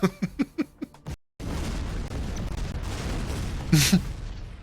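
Tungsten rods strike in a video game: a quick string of sharp explosive bursts, then a short silence, then a sustained roaring rumble with one more blast near the end.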